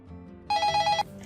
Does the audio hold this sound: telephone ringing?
yes